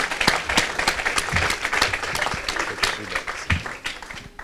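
Audience clapping with sharp irregular claps, moderately loud and steady, with voices mixed in at times.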